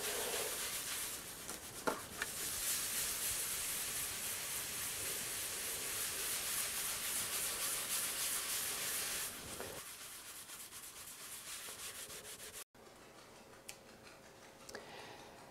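A copper etching plate is scrubbed with pumice powder, a steady gritty rubbing that runs continuously for about nine seconds. The rubbing then drops away into a quieter stretch with a few faint ticks.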